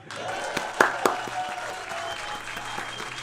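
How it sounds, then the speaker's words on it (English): Audience applause filling a comedy show room, a steady wash of clapping with a few sharper, louder claps standing out near the start and a faint voice underneath. "Clap your hands if you're ready to have some fun."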